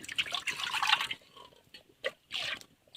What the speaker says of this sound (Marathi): आणि धुवून परत त्याच्यात ॲड करायचं पाणी